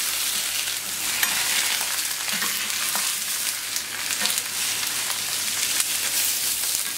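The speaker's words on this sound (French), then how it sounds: "Là, ça va griller" Sliced courgettes sizzle steadily as they grill in a pan, a dense, even crackle of hot fat with occasional sharper pops, close and continuous with no talk.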